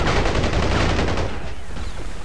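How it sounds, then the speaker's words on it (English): Rapid gunfire in the video game Battlefield Heroes, dense overlapping shots in a loud continuous burst that eases off toward the end. "he was trying to shoot the commando and there was like two other guys shooting"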